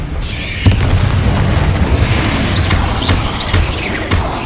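A loud, deep magical fire-spell explosion booms in a Hogwarts Legacy battle inside a mine, followed by sustained rumbling debris and scattered pops, close and heavy throughout.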